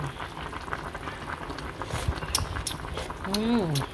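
Fish soup with tomatoes simmering in a pot over a lowered flame gives a steady soft bubbling and gurgling, heard under a person talking.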